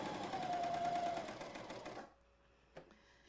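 A serger sewing machine runs in a fast, even rattle as it finishes fabric edges, then stops after about two seconds, followed by a small click in the quiet. The machine is close and moderately quiet, with no voices.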